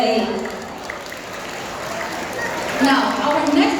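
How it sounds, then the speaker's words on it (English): A school audience applauds a Year 8 dance performance, a broad, continuous wash of clapping with crowd noise and voices mixed in, swelling slightly near the end. "Let's give another round of applause for year 8."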